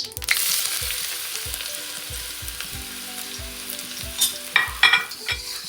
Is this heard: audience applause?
no